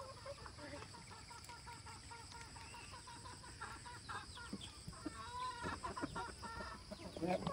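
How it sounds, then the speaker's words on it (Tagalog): Chickens clucking in a farm coop at dawn during light drizzle, a steady mix of soft clucks and calls at moderate distance over a rustling background that grows busier toward the end. "Ayan yung mga manok natin."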